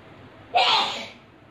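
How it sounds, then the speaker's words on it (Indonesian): A single loud sneeze close to the microphone, a short sharp burst that fades over about half a second, with no talking around it, during a live sewing session while fabric for a modern baju kurung is being cut. "Kalau ada yang dengar bunyi-bunyi bersin tu"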